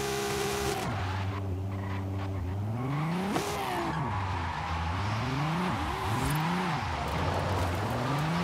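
A car in Forza Horizon 5 races in rally-style driving, its engine revving up and down repeatedly through gear changes, with tire squeal and skidding over a steady, loud roar.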